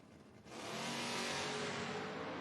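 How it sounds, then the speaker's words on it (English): At a footbrake drag race, a 1999 Camaro and a Monza launch off the line, a loud, sustained engine roar swelling within half a second and holding steady. "Kern in the 99 Camaro dial 654."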